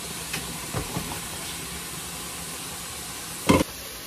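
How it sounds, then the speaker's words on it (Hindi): Vegetables, including capsicum, frying in a pan, giving a steady close sizzling hiss with a few soft knocks and a brief louder clatter near the end. "ये वेजिटेबल्स फ्राई हो रही है यहाँ पे।"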